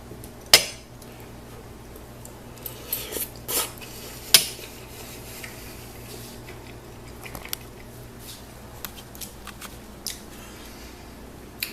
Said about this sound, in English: I usually eat spaghetti with a knife these days.